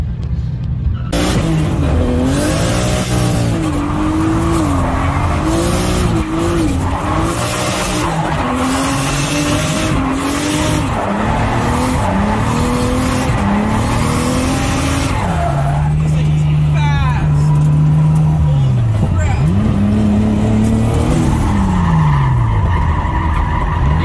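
A drift car on laps at Utah Motorsports Campus howls through repeated throttle swells and rising, falling engine notes, with long tire squeals and skids as it slides, heard loud from inside the car.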